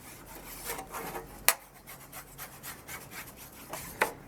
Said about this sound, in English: A lot of sawing and a bit of sharpening